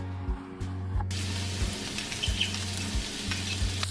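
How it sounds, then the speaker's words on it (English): Chopped onion, minced garlic and grated ginger sizzle in a wok over medium-high heat, a steady close frying hiss broken by the scrape and clatter of stirring. "by sauteing half cup of chopped onion in a wok over medium-high heat, along with 4 cloves of minced garlic"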